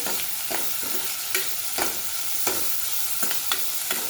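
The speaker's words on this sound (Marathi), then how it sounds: "छान असा हा टोमॅटो ही आपल्याला मऊ होईपर्यंत परतून घ्यायचा" Tomato sautéing in a pan with spices for shepu dal, a steady low sizzle with periodic scraping strokes of a spoon, close and even, no talk.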